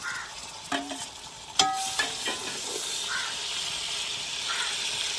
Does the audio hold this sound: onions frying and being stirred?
yes